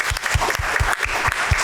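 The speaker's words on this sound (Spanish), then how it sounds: "con ustedes un aplauso para Miguel" A Spanish-speaking audience applauds a guest speaker at a talk on comic adaptations of literature, close, full clapping with a steady rhythmic beat running through it.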